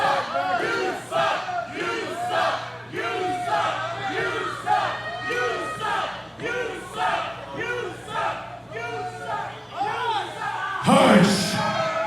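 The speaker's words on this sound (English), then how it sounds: "I think this crowd's telling Johnny Evans exactly what they think of him." Wrestling arena crowd shouting and jeering at a wrestler, a dense roar of rhythmic chanting bursts rising and falling throughout, swelling to a louder surge near the end.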